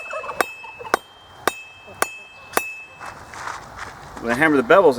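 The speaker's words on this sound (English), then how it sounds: "I'm going to hammer it down at an angle," Five sharp, ringing blows from a Harbor Freight hammer strike a steel knife blade at an even pace as the bevels are forged, each with a bright clang, followed by a voice speaking.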